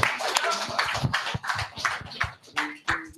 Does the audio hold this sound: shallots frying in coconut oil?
no